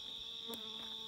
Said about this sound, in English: the bees, you can probably hear the bees buzzing around